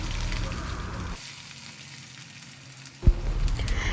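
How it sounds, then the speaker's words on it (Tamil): Chopped onion sizzling in hot oil with peanuts for red poha upma, a loud steady frying hiss that briefly drops quieter, then surges back with a clatter as cooking resumes. "பொடியை நறுக்குன்னு வெங்காயம் சேர்த்துருக்கேன்."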